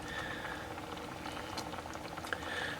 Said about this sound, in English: Now that that's coming to a boil